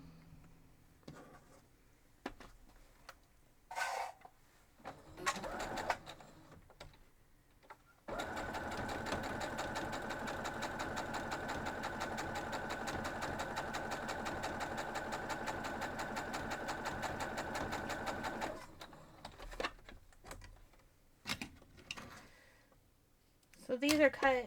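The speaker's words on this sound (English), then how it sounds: "So now we're just going to sew straight down the inside of both these lines." Sewing machine stitching quilt fabric straight along marked lines for a Road to Oklahoma quilt block, a steady close mechanical whir running for about ten seconds, framed by handling noises and bits of talk.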